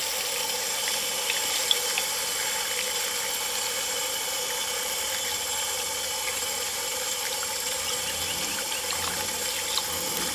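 Running tap water pours steadily while black turmeric rhizomes are washed, a continuous moderate splashing hiss with occasional small knocks and no talk.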